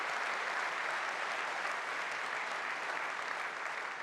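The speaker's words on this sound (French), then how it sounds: "On les applaudit aussi." Dense, steady applause from a large audience at a French building-industry conference, filling the whole stretch at an even level with no break and no talk over it.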